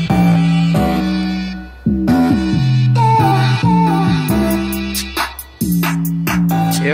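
An unmixed sample beat built on FPC drum pads, with looped sampled melodic chords and punchy drum hits repeating at close range and moderate loudness.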